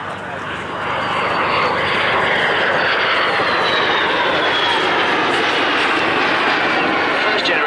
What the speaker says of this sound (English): aircraft running in.